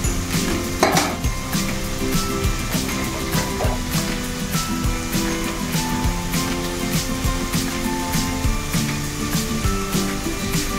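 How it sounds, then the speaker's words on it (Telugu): Spices with cloves and cinnamon bark frying in hot oil in a pan while being stirred, a constant loud sizzle close up with a sharp utensil clink near the start and light scraping throughout. "లవంగా చెక్క కూడా వేస్తున్నాను ఫ్రెండ్స్. కలుపుకోవాలి ఫ్రెండ్స్ ఇలాగా."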